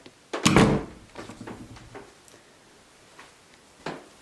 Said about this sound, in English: Close this door forever.